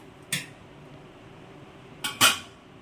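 A plate set down for serving roasted bread, giving a sharp clink followed by two quick ceramic knocks close by, with quiet kitchen background between the hits.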